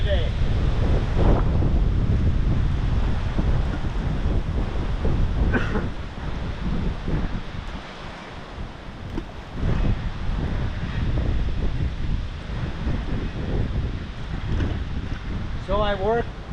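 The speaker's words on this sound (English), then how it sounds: "it's a little windy today." Wind blowing on the Kenai River in Alaska during salmon fishing, a steady low roar buffeting the microphone for the whole stretch, dipping briefly in the middle, with brief bits of voice over it.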